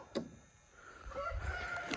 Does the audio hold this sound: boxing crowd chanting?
no